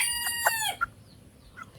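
A labuyo and native chicken crossbreed rooster lets out a loud, close crow with a drawn-out, falling call, followed by a short squawk and faint clucks in a quiet yard.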